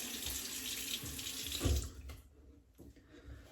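Water runs from a sink faucet, a steady close hiss that fills the first half, then drops to a softer, quieter flow with faint rustling and no talk.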